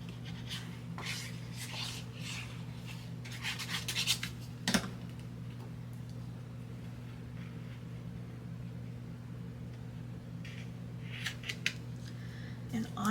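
Scissors trim paper for a Classic Pooh birthday tag album in short runs of quiet, crisp snips, close up over a steady low hum.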